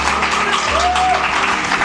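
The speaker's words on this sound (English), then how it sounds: "Please, let's give her a round of applause." Applause from a debate audience for a Faculty of Law contestant, a dense steady patter filling the whole stretch, with a voice briefly audible underneath.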